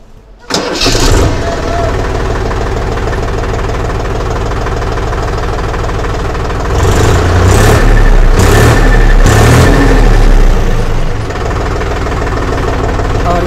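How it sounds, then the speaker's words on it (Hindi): Mahindra Yuvo 275DI 35 hp tractor engine cranks and catches, then settles into a steady, loud diesel idle with a brief rise in revs midway; some voice is audible under the engine. "तो चलिए आपको इसको स्टार्ट करके इसका आवाज़ सुनाते हैं"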